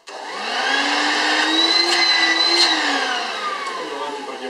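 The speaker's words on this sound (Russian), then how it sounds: "Мощность у пылесоса довольно большая." VACUBOY portable 12/220 V vacuum cleaner running steadily and loudly nearby, a whining motor hum with a rising tone that holds throughout, with no talk over it.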